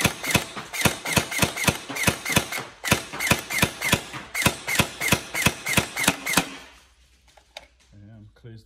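A Tokyo Marui SGR12 AES airsoft shotgun fires a rapid string of about twenty sharp mechanical shots in a steady rhythm, close and loud, then stops abruptly, leaving faint handling noise.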